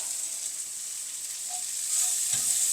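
Thinly sliced red onions fry with fennel seeds and garlic in hot oil for a chicken vattichathu, giving a steady close sizzle that grows slightly louder toward the end.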